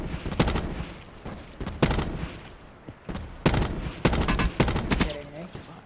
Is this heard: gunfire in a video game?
yes